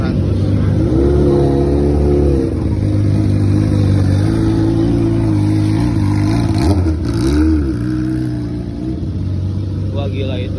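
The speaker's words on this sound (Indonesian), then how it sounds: "Knalpotnya berisik banget cuy, parah." A loud motorcycle exhaust revs hard among a gathering of big bikes, its engine tone climbing and falling in drawn-out swells, close and dominant, with voices talking over it.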